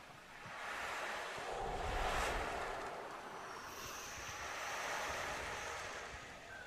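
Soft ocean surf swells and recedes in slow, broad washes, a low steady whoosh with gentle rises and falls and no voices.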